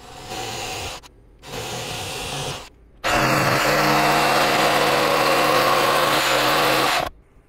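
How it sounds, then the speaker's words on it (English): A jigsaw cuts a hole into a caravan panel for a stereo install, with two short buzzing bursts followed by one long, loud, steady cut of about four seconds, close by, with no talking. "get the jigsaw out, cut that out,"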